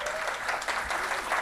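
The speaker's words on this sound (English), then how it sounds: "give a big round of applause for Laura Miller" A brief burst of thick crowd applause for Laura Miller, many hands clapping steadily at a constant level throughout.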